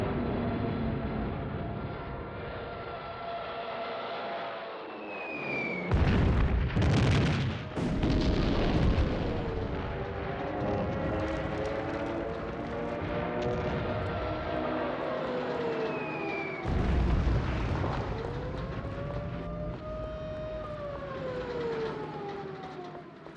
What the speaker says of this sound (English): On the 25th of September, Hitler orders the bombing of Warsaw.